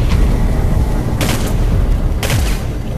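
An explosive barrel is shot and blows up in the video game Singularity, giving two sharp bursts about a second apart over a continuous rumbling, noisy game background.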